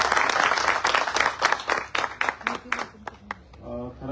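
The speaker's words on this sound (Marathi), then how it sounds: "आपण सर्वांनी टाळ्या वाजवून त्यांचं स्वागत करावं." Audience applause welcoming a guest at a Pune journalists' association event, a dense burst of clapping from a crowd that thins out into a few scattered claps.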